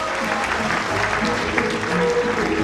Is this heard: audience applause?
yes